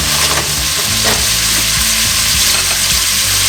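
Shredded cabbage fries loudly in a pan, a dense continuous sizzle broken by repeated scraping and knocking as it gets stirred, close and steady with no voices.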